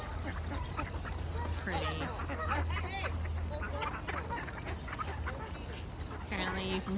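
Ducks and other birds at a conservation area call in a busy, continuous chorus, with quacks and chirps scattered throughout, while people talk nearby over steady outdoor background noise.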